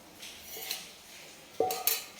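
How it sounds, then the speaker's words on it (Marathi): A pan is set down on the stove, ready for dry-roasting coconut in ghee for modak, giving a couple of sharp metallic clanks against quiet background. "तर आता आपण पॅन ठेवलेला आहे"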